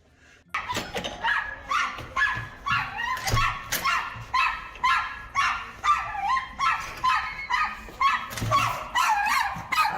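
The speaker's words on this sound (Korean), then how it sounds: "집에 누구 오면 이렇게 짖어요?" A dog in a multi-household home barks at an outside visitor, sounding a rapid run of loud, close barks and yips that repeat steadily after a brief quiet start, with no speech over them.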